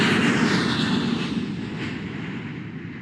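An airplane landing in a Nancy Drew video game, heard as a loud, steady roar of engine and rushing air that fills the whole stretch and fades slightly toward the end.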